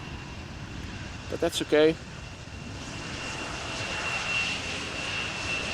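An Embraer airplane lands at Amsterdam Schiphol Airport with a steady, fairly distant engine roar and a thin whine running throughout, while a voice speaks briefly early on.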